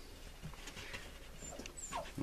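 Young puppy whimpering softly, with thin high whines and faint panting close by in a quiet household room.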